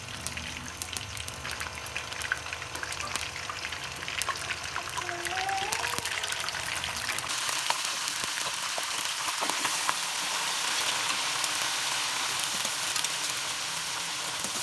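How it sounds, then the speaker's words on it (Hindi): Beef pieces hit hot oil in a kadai and set off a steady, bright sizzle that grows louder and denser midway, then holds as a continuous close frying hiss while making beef nihari. "अब इसके अंदर मैं गोश्त डालने लगी। गोश्त को अच्छी तरह फ्राई कर लूँगी"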